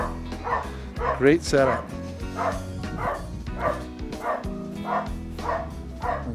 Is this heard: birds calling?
no